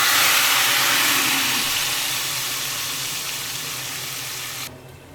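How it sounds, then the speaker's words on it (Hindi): Hot tadka tempering hits a pot of kadhi with a loud, broad hiss and sizzle that slowly fades, then cuts off abruptly near the end. "तो इसको तड़का लगाते हैं"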